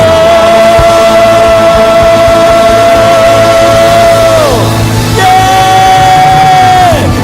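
A Sunday worship congregation raises a loud, sustained shout of praise to the Lord, the crowd's voices blending with long held organ or keyboard chords that shift pitch partway through.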